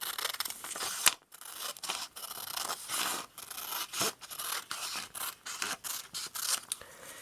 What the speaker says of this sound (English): we'll take a scissors and cut that out